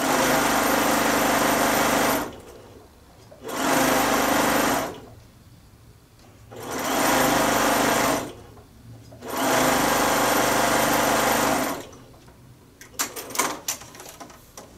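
A sewing machine runs in four steady bursts of about two seconds each as two pieces of fabric are stitched together for a Bargello quilt, with short pauses between runs and faint handling sounds near the end.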